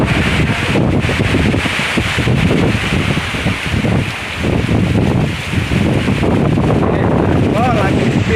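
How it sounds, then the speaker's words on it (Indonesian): Strong wind blasts over rice fields during heavy rain, a loud, continuous roar buffeting the microphone with rustling crops beneath, steady throughout with a brief lull near the middle. "Angin."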